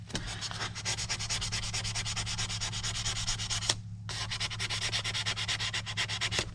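A wooden sample is sanded by hand in rapid, rhythmic back-and-forth rasping strokes, close and loud, with a brief pause near the middle before the scrubbing resumes; no speech.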